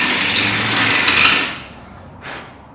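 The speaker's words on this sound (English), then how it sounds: "I like to use a step bit, so I can just put a nice bevel on the top of that" A step bit drilling a bevel into the top of a drilled hole, a loud, bright whirring grind for about a second and a half, then a brief quieter burst as the bit touches again.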